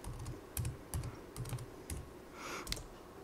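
A password being typed on a computer keyboard gives a quiet run of about eight separate key clicks at an uneven pace, close by and without talking.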